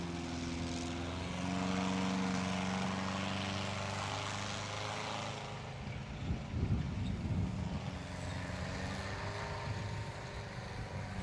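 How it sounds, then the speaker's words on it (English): An original engine runs in a Sherman Firefly tank, a steady loud droning rumble with strong low harmonics, rougher and choppier in the second half, with no talking. "This Sherman Firefly is running an original engine and this original inside."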